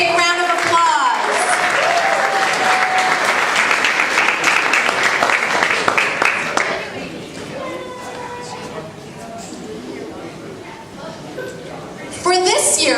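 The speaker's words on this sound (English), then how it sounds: "Big round of applause" Sustained audience clapping at a high school awards ceremony, loud and dense for about six seconds, then thinning into scattered claps and crowd chatter before a fresh burst near the end.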